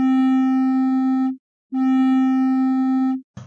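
A synthesized tone in FL Studio, passed through distortion and then EQ, plays as two sustained, buzzy, harmonic-rich notes of over a second each, separated by a brief silence and followed by a short click.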